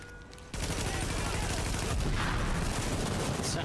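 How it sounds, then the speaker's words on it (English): Gunfire from The Division, a sudden loud burst kicking in after a quiet moment and continuing as a dense, sustained barrage of shots and impacts. "Sounded like a shotgun."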